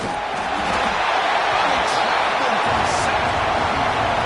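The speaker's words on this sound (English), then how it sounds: "And this crowd coming to life here trying to help the defense." A stadium crowd at a football game against Alabama roars in a sustained wall of cheering and noise, while a commentator talks over it.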